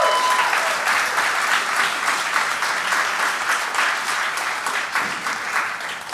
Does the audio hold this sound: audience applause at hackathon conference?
yes